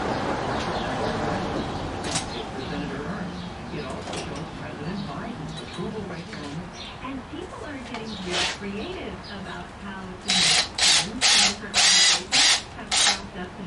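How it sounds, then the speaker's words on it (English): A power drill whirs in short bursts near the end, several quick pulses in a row, after a stretch of background noise and faint talk. "I got to drill them from the outside in first, just so I know where the hole is."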